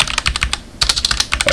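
Rapid typing on a computer keyboard, a quick run of close, crisp key clicks with a brief pause midway before the tapping resumes, no voices.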